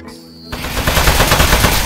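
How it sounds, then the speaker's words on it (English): Rapid automatic gunfire from a weapon in the video game Aperture Desk Job, aimed at a metal target: a sustained, loud burst of dense shots after a brief quieter start, with no pauses. "So shoot the metal."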